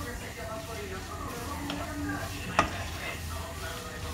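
Pasta cooks in a pan with guanciale, a steady sizzle and stirring throughout with one sharp clink of a utensil midway, and a voice faintly beneath.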